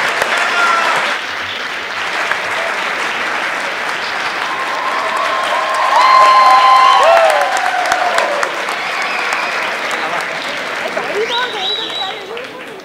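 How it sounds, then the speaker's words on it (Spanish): A crowd at a university campus gala in Alcoi applauds an award winner with dense, sustained clapping that swells midway, accompanied by scattered cheers and whistles, filling the room for the full stretch. "Por favor, un fuerte aplauso."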